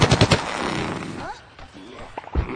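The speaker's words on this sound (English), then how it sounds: "He's got a big, powerful zombie cannon as his primary weapon." A rapid burst of heavy shots from a zombie cannon in Plants vs. Zombies: Garden Warfare opens the moment, followed by scattered impacts and game effects. A voice talks over the action.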